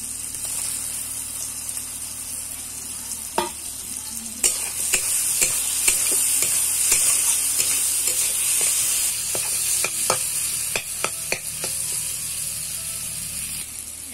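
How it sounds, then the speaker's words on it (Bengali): Fried potatoes stirred into spiced masala for a soya chunk kofta curry, a low sizzle broken by repeated sharp scraping clicks of a spatula against the pan. "এবার ভেজে রাখা আলু দিয়ে দেবো"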